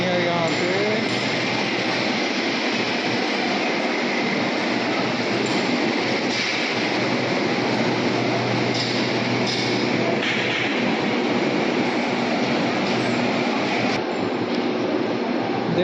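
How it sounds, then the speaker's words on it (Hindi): An underground metro train in Pune, on test at Civil Court station, rumbles steadily at the platform with a broad roar and occasional higher squeals and clatter, heard close and loud. "ट्रेन प्लेटफॉर्म 1 पर लग चुका है, क्योंकि इसका टेस्ट हो रहा है अभी"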